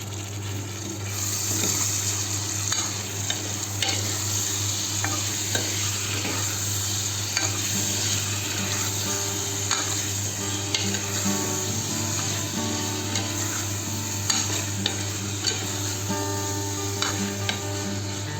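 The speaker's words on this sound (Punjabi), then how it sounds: "ਪਿਆਜ਼ ਲੰਮੇ ਲੰਮੇ ਕੱਟੇ ਹੋਏ ਇਹਦੇ ਵਿੱਚ ਐਡ ਕਰ ਦਾਂਗੇ ਕਿ ਇਹਨਾਂ ਨੂੰ ਸੇਕ ਲੱਗ ਜਾਵੇ ਥੋੜਾ ਜਿਹਾ" Long-sliced onions sizzle and fry in a pan for a Punjabi-style aloo kadhi, with steady stirring scrapes and clinks over a continuous hiss, close and fairly loud, no voices.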